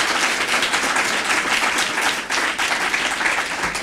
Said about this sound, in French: je crois qu'elle mérite des applaudissements nourris pour cela